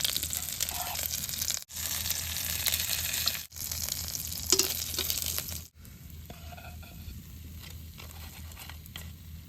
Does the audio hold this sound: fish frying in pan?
yes